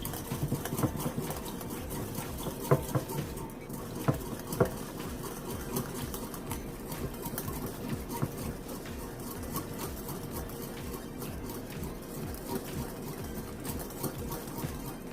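A whisk beats a mixture in a bowl while tofu shish kabobs are being prepared, giving a steady, fast, rhythmic clatter and scrape that runs throughout with no talking.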